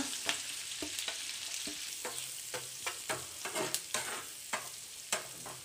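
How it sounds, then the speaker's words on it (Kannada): Cumin, curry leaves and onion fry in oil for a Kannada egg green fry, giving a soft, steady sizzle broken by regular scrapes and clinks of a spoon stirring the pan. "ಅದೇ ಎಣ್ಣೆಯಲ್ಲಿ ಒಂದು ಸ್ವಲ್ಪ ಜೀರಿಗೆ ಆ್ಯಡ್ ಮಾಡ್ಕೊಳ್ಳಿ, ಕರಿಬೇವು, ಈರುಳ್ಳಿ ಆ್ಯಡ್ ಮಾಡ್ಕೊಳ್ಳೋಣ."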